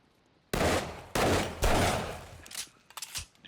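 Gunfire in the zombie video game 7 Days to Die, three loud, close bursts of rapid shots in quick succession, followed by a few scattered quieter reports as the shooting tapers off.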